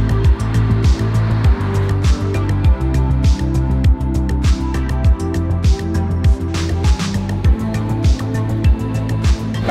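Busy road traffic heard from the roadside, a loud continuous rumble of passing vehicles with repeated low engine swells and tyre noise coming and going close by, no one talking.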